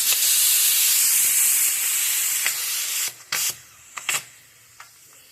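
A pressure cooker of freshly cooked rice vents steam in a loud, continuous hiss that gradually weakens, followed by a few short sputtering bursts as the release finishes.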